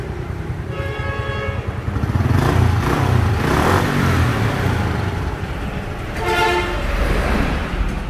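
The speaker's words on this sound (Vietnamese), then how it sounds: "Máy nổ đó." A motor engine runs with a steady low rumble, and two short bursts of harmonic horn-like tones sound near the start and again toward the end.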